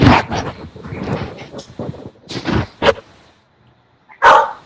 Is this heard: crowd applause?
no